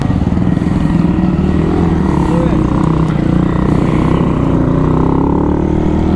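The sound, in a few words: riding a Monkey Bike motorcycle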